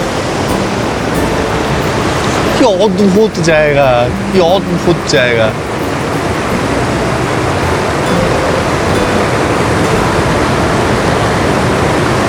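Steady broadband rush of the Parvati river flowing in Himachal, loud and continuous throughout, with someone speaking briefly over it early on.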